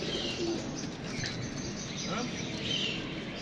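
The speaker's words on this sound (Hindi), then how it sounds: "ये कबूतर है चूहा कबूतर" Chuha kabootar pigeons cooing softly amid steady broadband background noise, with bird calls faintly audible through the din.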